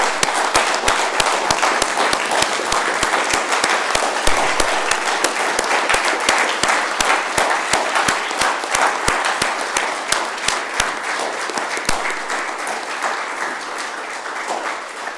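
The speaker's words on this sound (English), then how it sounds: "Let's give them all a nice round of applause." Sustained applause from an audience at a mayor's news conference honouring firefighters and rescuers for bravery, with many hands clapping steadily and loudly for about fifteen seconds, easing slightly toward the end.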